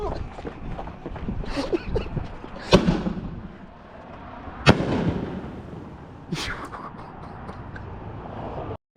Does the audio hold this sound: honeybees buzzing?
no